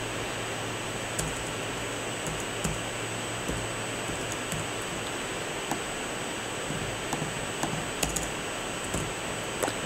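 Steady soft clatter of keys as a short line of text is typed on a computer keyboard, light irregular taps over a constant hiss of background noise, no voices.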